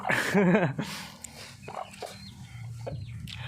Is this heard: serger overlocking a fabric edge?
no